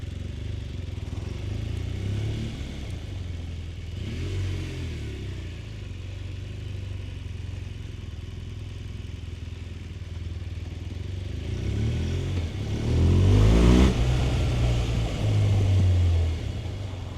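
A BMW R1200R motorcycle with 37,000 km on it idles with a steady low rumble, then revs up louder and rougher near the end before settling back down. No one speaks.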